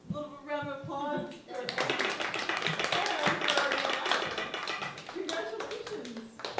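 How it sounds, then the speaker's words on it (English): An open mic audience gives a round of applause, the clapping building after a spoken opening, growing loud and mixed with voices before tapering. "Round of applause."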